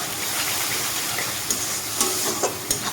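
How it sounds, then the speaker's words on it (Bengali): Ground spices with turmeric and salt fry lightly in oil in a pan for an eggplant-yogurt dish, a soft steady sizzle broken by a few stirring scrapes, close and with nobody talking. "সে মশলাটা একটু হালকা ভাজা হয়ে যাচ্ছে"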